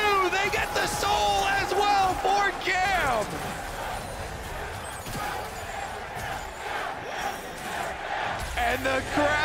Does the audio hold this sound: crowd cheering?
yes